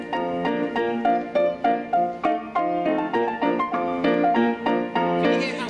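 A jazz band plays a short passage straight, with no swing: even, clipped notes in a steady march-like pulse, clear and close.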